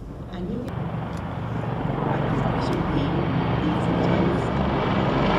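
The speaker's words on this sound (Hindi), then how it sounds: "Helicopters, एक Mi-35 और चार अपाचे हेलीकॉप्टर्स" One Mi-35 and four Apache helicopters fly past in wing formation at a Republic Day parade in India, a loud rotor-and-engine roar that swells steadily as they approach, with a voice commentating over it.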